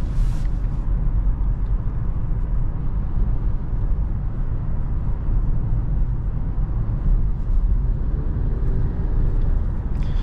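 2023 Nissan Altima 2.0 SR Turbo accelerating on a test drive, heard from inside the cabin as a steady low engine and road rumble that holds at a constant loud level.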